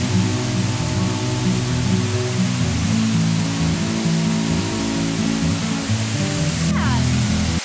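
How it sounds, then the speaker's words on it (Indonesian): A small waterfall in Bali roars as a constant, dense rush of falling water close by, filling the whole clip with broadband noise while a voice is faintly heard under it. "It's a small waterfall near."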